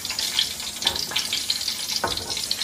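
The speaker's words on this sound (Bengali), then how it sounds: "এখন ফুলকপিটা তুলে ডিমটাকে ভাজা হচ্ছে" An egg fries in a pan after cauliflower has been fried in it. A continuous close sizzle is broken by a few sharper crackles and spits, with no voices.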